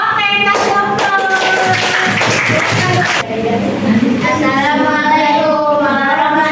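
A class audience gives a short burst of clapping that fades out after about three seconds, with voices speaking over and after it.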